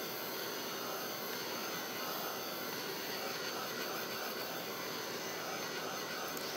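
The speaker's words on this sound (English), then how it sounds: "with my heat tool, and we'll just dry this" Heat tool drying a craft stamping project, giving a steady, close, continuous blowing hiss that stays even throughout with no talk.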